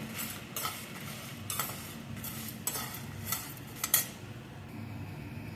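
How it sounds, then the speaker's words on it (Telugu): Tamarind stirred and fried in a pan with garlic in a village kitchen, a quiet sizzle under repeated scraping utensil strokes against the pan, close up with no speech. "కొద్దిగా చింతపండు వేసి వేయించుకోవాలి"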